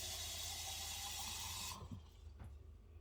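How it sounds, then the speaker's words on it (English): Water poured into a pot of barbacoa seasoned with bouillon: a steady, close rushing hiss for under two seconds that cuts off abruptly, followed by quieter faint clatter. "what I'm gonna do is add a little bit of water"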